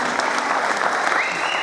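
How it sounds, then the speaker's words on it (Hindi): Loud, dense applause from the audience at a kirtan night in Suva, Fiji, a close, steady wash of many hands clapping at once throughout, with faint voices mixed in underneath. "और एक जोरदार तालियां कार्तिक पिल्ले के लिए"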